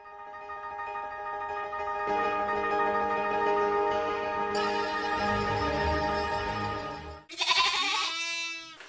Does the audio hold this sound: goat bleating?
yes